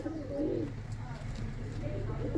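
A flock of fancy pigeons, including blue and black birds, gives low, continuous cooing at moderate distance, soft and steady throughout, with a faint murmur of voices behind it.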